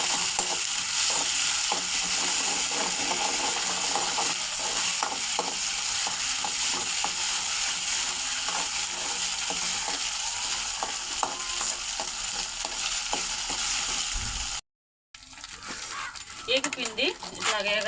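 Ginger garlic paste fries in oil over a low flame for a raw prawn gongura curry, sizzling steadily up close with stirring scrapes. A person talks over it, and the sound cuts out briefly near the end.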